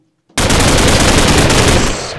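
Loud burst of rapid automatic gunfire from a gun in a modded Minecraft battle, a continuous rattling volley lasting nearly two seconds after a brief silence, then tapering off with no talk.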